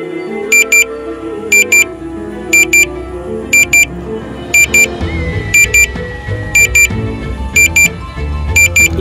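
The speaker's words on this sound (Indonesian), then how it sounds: "Ini RTH nya otomatis karena itu ada suara beep ya" Automatic return-to-home beeping from a drone flying over a residential complex in Pontianak, West Kalimantan: evenly spaced pairs of sharp electronic beeps repeat about once a second over a steady background hum.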